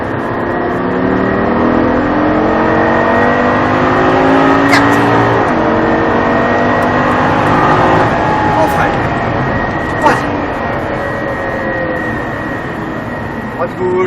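Lamborghini LP 560 revving hard and accelerating with its wheels turned and traction control off, a loud continuous engine roar with rising harmonics close by, while people talk over it.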